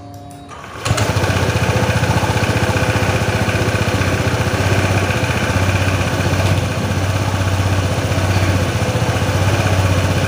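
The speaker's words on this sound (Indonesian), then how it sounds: "setelah itu kita hidupkan mesin ya, lebih kurangnya 10-15 menit" An engine turns over and catches about a second in, then settles into a steady, close, rumbling idle that carries on evenly with no talking.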